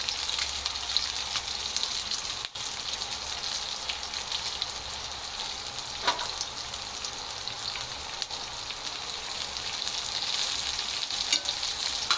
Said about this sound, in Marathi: ही थोडीशी खालून लाल रंग येईपर्यंत खरपूस भाजून घ्यायची आहे